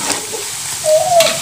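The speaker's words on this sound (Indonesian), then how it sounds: "Kita ulangi lagi gorengnya sampai dia crispy." Food fries in hot oil on a large stove until crispy, giving a steady loud sizzle with a brief stirring scrape near the end.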